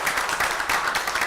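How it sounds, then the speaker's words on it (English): A crowd at a city council meeting in Peachtree City applauds in a steady, dense wash of clapping that fills the whole brief moment without letting up. "So let's clap for our cities."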